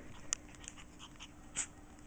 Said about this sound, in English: Yes, he's barking at Stuart.